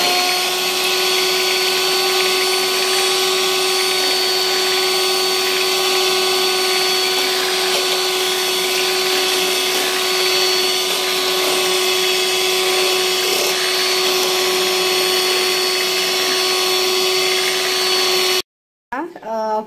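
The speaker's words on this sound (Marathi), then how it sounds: "आता आपण याला थोडं बीटरनी बीट मशीननी थोडंसं जरा फिरून घेते" An electric beater whirs steadily while mixing custard kulfi mixture in a bowl, a continuous loud motor hum with a sharp whine that runs unbroken before stopping abruptly near the end.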